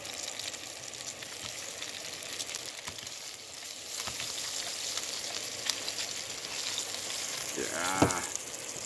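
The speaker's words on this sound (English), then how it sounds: "This thing's not cooking bacon too good." Bacon fries in a pan outdoors in the woods, giving a steady soft sizzle with scattered crackles and pops throughout, plus a brief louder clatter near the end.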